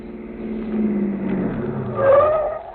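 In a radio drama, a car drives off after a tire repair: a steady engine hum builds, then a short tire squeal rises near the end, with no one talking.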